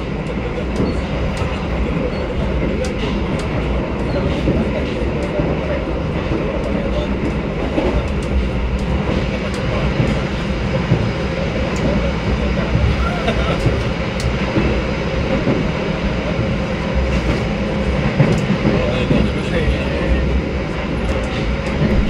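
Inside the Argo Dwipangga passenger train on its fast morning run near Jakarta, a loud, steady rumble with faint rail clatter persists throughout, heard from onboard the moving carriages.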